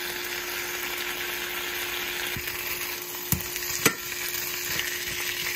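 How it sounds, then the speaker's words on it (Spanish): Pork chops fry and brown in a pan with a steady, even sizzle, broken by a few sharp pops and crackles of hot fat. "Ahí van quedando. Ahí van dorándose."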